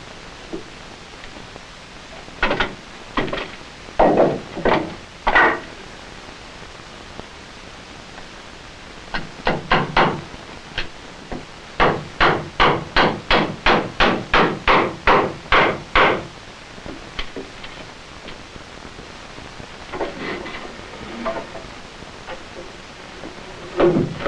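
Hammer blows nailing bracing between wooden floor joists while building a family fallout shelter, sounding as several short bursts of sharp, close strikes over a steady background hiss, with a fast run of about fifteen hits in the middle.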